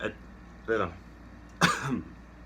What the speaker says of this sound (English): Excuse my language and my cough.